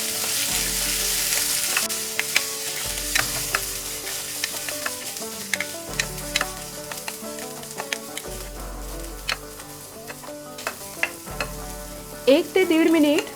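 Washed rice sautéing in ghee, with scattered stirring clicks and a soft sizzle running under fairly prominent background music for the whole stretch.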